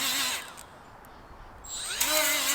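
A Milwaukee M12 Fuel right angle die grinder (2485-20) whines up at high speed, winds down to near silence, then spins back up with a rising pitch, close and loud.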